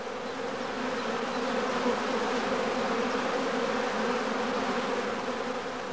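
A honey bee swarm buzzing as a dense, unbroken drone, loud and close, steady for the whole stretch with no voices.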